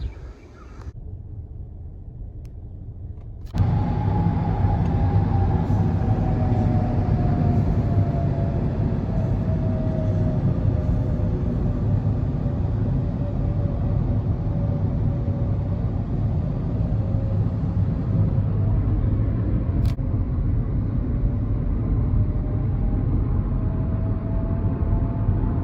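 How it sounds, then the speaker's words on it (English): Race car engines at Texas Motor Speedway, heard from far off, form a continuous low rumble with a faint whining tone that slowly falls in pitch, holding steady for over twenty seconds after a sudden start. "you can hear the Texas Motor Speedway and the race car engines"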